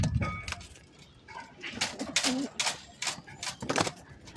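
Pigeons coo close by, a soft low call rising among rustling and fluttering movement, with scattered clicks and taps around the birds.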